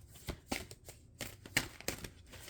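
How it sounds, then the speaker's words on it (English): Cards being shuffled in a bulky deck, several soft clunky riffles and taps close by, irregular and a little muffled. "I'm shuffling a ginormous deck, so bear with me. Sometimes it's a little clunky"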